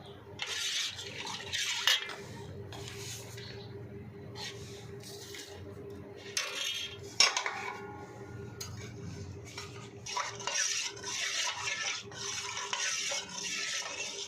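Water chestnut flour khir stirred slowly in a pot on a gas stove: continuous scraping and swishing of a spoon against the pot, with occasional clinks and a low steady hum beneath, close and without talk.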